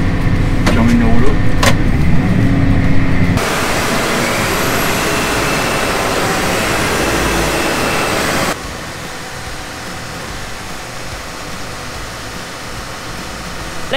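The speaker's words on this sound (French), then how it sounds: "c'est le tracteur qui emmène" Massey Ferguson 8S tractor running at the Beauvais factory, a loud steady engine drone that shifts level twice, with a broadband roar in the middle stretch and some voices and clatter early on.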